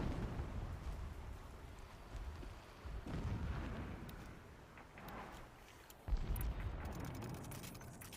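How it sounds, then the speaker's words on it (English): Distant explosions in the video game Horizon Zero Dawn: low, rumbling booms rolling in at intervals under a steady noisy ambience, with one sharper blast near the end. "Explosions in the distance."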